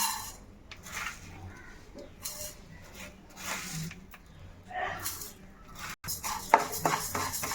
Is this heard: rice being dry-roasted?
yes